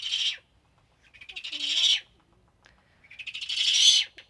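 A hungry raptor at a bird rehabilitation center gives three loud, raspy, rising hissing screeches close by, each lasting under a second, separated by short silences.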